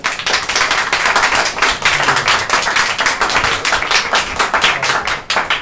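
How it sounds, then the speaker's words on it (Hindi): A church congregation claps along during a Sunday service, a dense, steady run of overlapping hand claps filling the room with a quick, even rhythm from start to finish. "आगे वाले लोग ताली बजाओ अपने लिए"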